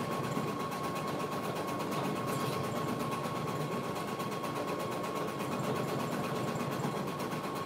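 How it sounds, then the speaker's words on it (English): A running embroidery machine gives a steady, continuous mechanical whir with an even, rapid stitching rhythm and a faint constant hum, holding at a moderate level throughout with no voices. "while we wait on this embroidery machine to stop"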